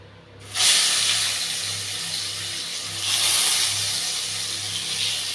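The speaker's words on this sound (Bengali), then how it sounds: "এক এক করে সব কয়টা বেগুন আমরা কড়াতে দিয়ে দিচ্ছি।" Eggplant slices dropped into hot oil in a wok, a loud sizzling hiss bursting in at the start and surging again partway through, continuing close and steady.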